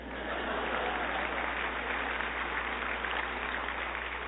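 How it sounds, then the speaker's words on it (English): An audience at an annual nonprofit breakfast gives steady, moderately distant applause, a continuous muffled rush of many hands under a low electrical hum. "That's an applause line."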